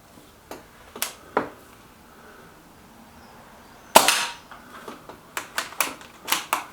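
Sharp, clipped shots from a Walther Rotex RM8 .22 air rifle firing JSB Jumbo Express pellets, a few single cracks spaced apart, then a louder one followed by a quicker run of shots with faint clicks between, all without talk.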